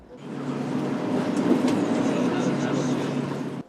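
A Swiss-made three-section tram rolls through Kharkiv on test runs, a steady mid-loud rumbling hum of wheels and motor building and holding, then cutting off.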